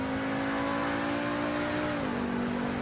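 Engine of an SR1 sports car in the video game GTA 5 holds a loud, steady high rev that drops slightly in pitch near the end, with no talk over it.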